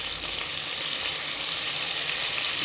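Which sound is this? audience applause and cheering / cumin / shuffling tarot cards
cumin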